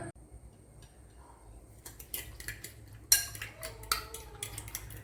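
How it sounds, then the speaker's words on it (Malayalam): Egg batter is whisked in a bowl for egg baji: after a quiet start, rapid close clinking and tapping of utensil against the bowl builds into a busy, uneven rattle. "നല്ലപോലെ ഒന്ന് കലക്കിയെടുക്കണം"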